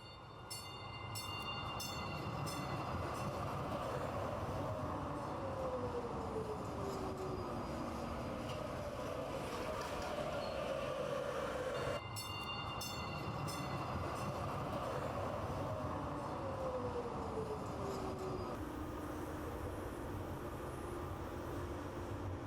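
A train rolls steadily along the rails with a continuous rumble and rattle, and a couple of brief horn-like tones sound partway through, all fairly distant and quiet, with no talking.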